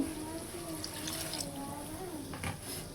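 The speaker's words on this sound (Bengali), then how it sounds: "কষানো হয়ে গেছে, এবার পরিমাণ মতো পানি দিয়ে দিব।" Water poured into a pan of frying fish and potato curry makes a steady, moderately loud running-liquid sound for about three seconds, with faint kitchen noise underneath.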